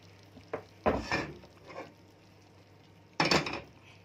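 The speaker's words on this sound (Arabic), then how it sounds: "واقلب كده واشوف اذا كانت محتاجه تاني ولا لا" Spoon scraping and clanking in a pot while washed rice is stirred with tomato sauce, a few separate bursts of stirring with quiet pauses between them, fairly faint and close.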